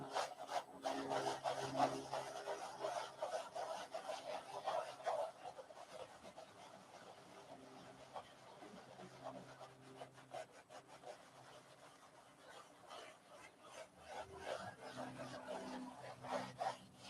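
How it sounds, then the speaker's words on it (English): Cloth rubbing gently across the surface of a painting to clean off a small spot, a soft repeated scrubbing that is close and steady, dropping quieter midway before picking up again. "Gentle rubs, and then move to a clean section on your cloth, and then gentle rubs again."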